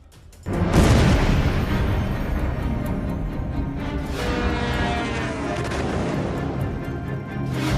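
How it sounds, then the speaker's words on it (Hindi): An Iranian missile barrage at night begins with a sudden loud blast, then a long, dense roaring rumble that stays heavy and broad with scattered cracks throughout. "काले आसमान में जुगनू की तरफ उभरती ईरान की मिसाइल"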